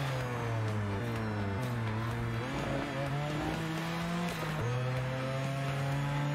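A race car engine in the video game Hot Lap Racing climbs through the gears with repeated rising whines, dropping on downshifts, with brief tire squeal, loud and continuous.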